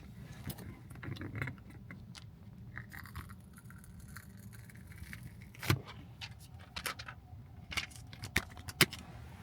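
Keys for a new 2025 Tesla Model Y LR AWD jangling, a faint rustle followed by a few sharp metallic clinks near the end, close and quiet.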